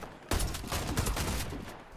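A suppressed Sidewinder fires in the shooter game Warface in a quick burst of muffled shots, followed by scattered game action noise at close, fairly loud level.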